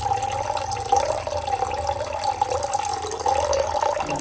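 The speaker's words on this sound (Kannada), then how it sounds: "ತಂಪನ ಬೀಜ ಪಾನಕಕ್ಕೆ ಶಿಯಾ ನೀರು ಕೂಡ ಸೇರಿಸ್ತಾ ಇದ್ದೀನಿ" Coconut water pours steadily into a drink, a continuous gurgling trickle with a rising and falling tone, close by.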